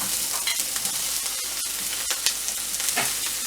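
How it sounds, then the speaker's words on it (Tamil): Onion and tomato sizzle and fry in a hot pan for a Tamil ridge gourd chutney, a steady close crackle broken by brief stirring scrapes, with no voices. "நெக்ஸ்ட்டு ஆனியன் அண்டு டொமேட்டோவை நம்ம வதக்கணும்"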